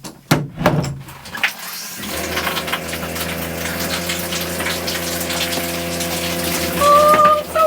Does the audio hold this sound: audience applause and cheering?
no